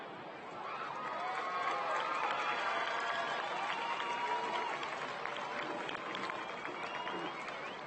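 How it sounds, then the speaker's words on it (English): Stadium crowd applauding and cheering at a Salt Lake City high school football game, Highland at East High, a steady broad wash of clapping and crowd noise that swells early and holds throughout. "Let's give a big Salt Lake City round of applause"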